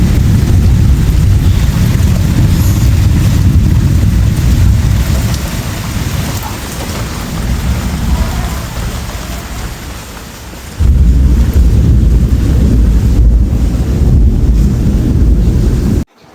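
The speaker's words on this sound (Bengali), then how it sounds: "তো বৃষ্টি হচ্ছিল বাইরে জোরে" Heavy rain pours down outside in a steady, loud roar with gusty wind rumble, easing slightly midway before surging back to full intensity.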